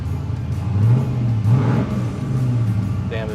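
A boosted Chevy C10 truck engine runs close by with a deep, steady rumble, swelling in a couple of quick revs before settling back to idle.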